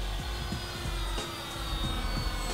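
A T-28 Trojan warbird RC plane, an 1100mm Eleven Hobby model, drones overhead with a steady, fairly loud engine hum that holds for the whole stretch with slight swells.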